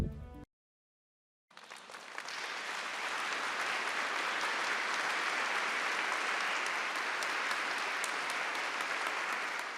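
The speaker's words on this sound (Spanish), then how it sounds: "Los miembros de la familia Paulina recibieron al Papa con un fuerte aplauso en cuanto entró en la sala clementina." Loud, steady applause from members of a religious congregation welcoming the Pope into the Clementine Hall at the Vatican, starting after a brief silence and continuing evenly to the end.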